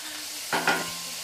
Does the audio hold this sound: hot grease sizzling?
yes